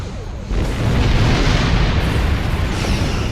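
A high-yield torpedo detonates in a Star Trek Online space battle: a loud, sustained rumbling explosion that hits suddenly and roars heavily for a few seconds before slowly easing.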